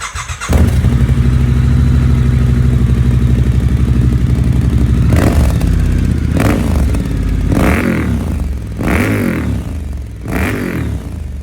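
Scrambler motorcycle fitted with a Kelpi slip-on exhaust, starting and then idling loud and close with a throbbing beat, followed by several sharp throttle blips that rise and fall.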